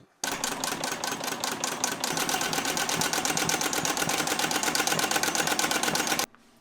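An embroidery machine stitches a design onto wet lettuce, a steady rapid mechanical chatter of needle strokes that starts abruptly, runs loud and even for about six seconds, then cuts off.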